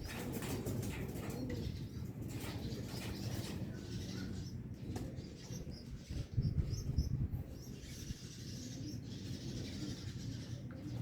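Racing pigeons coo softly at close range amid brief wing flaps and faint chirps, over a steady low background rumble with no talking.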